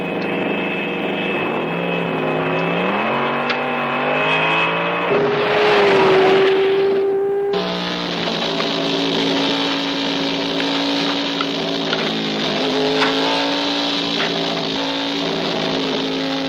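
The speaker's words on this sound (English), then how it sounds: "What's the matter with this engine?" A race car engine runs steadily with droning harmonic tones that rise and fall as the revs change, briefly swelling into a louder, noisier surge midway before settling back to a sustained hum.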